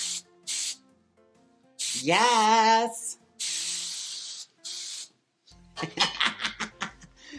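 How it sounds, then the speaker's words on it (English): Several sharp bursts of aerosol hairspray hissing in short puffs onto the ends of a Harley Quinn costume wig, separated by pauses, with a brief word spoken and laughter toward the end. "let's start spraying the ends."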